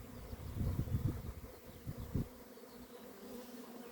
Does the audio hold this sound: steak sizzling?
no